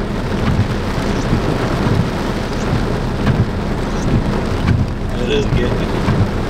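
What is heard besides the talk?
thunder and rain of a small thunderstorm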